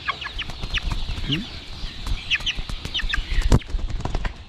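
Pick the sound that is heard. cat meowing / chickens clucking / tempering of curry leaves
chickens clucking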